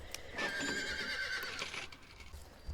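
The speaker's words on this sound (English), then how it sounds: "Since I didn't make a Halloween video riding the Dusk Grim horse, I am riding her now." A horse whinnies in Star Stable Online, a clear rising-and-falling neigh of about a second, close and fairly loud, with faint hoofbeats and game ambience around it and no talking.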